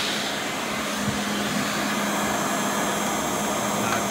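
Rainbow D4C canister vacuum cleaner running with suction on, a steady loud whooshing roar that continues unbroken and alone with no speech.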